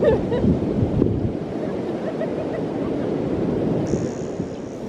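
Surf rolling onto a beach at Noosa, Australia, a steady broadband wash of breaking waves with wind buffeting the microphone, continuous and close, with faint voices mixed in.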